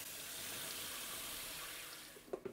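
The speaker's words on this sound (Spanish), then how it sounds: "La frotaremos bien para eliminar toda esta sustancia hasta que el agua que sale de la quinoa sea totalmente transparente." Quinoa is rinsed under running kitchen tap water, a continuous close splashing hiss of water into a sink with a few small clinks near the end.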